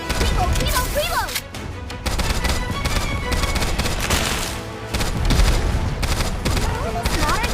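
Rapid gunfire in Goddess of Victory: Nikke, dense bursts of shots rattling almost continuously over game music and effects, with voices calling out in the mix.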